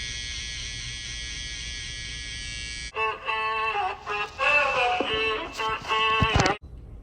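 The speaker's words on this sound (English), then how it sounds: "I'm going to take my first guideline using the trimmer" Babyliss electric beard trimmer buzzing steadily at first, then cutting through beard hair with a rougher, fluctuating whine as the blade moves in short passes, close and loud.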